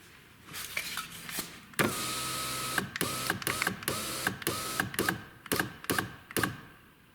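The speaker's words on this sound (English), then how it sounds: "Lower the window to see the mounting bolts here and here." Inside a VW Golf 6 door, the electric window lowers with a steady motor whine of about a second, then sharp clicks and knocks of the mechanism recorded up close with no talk.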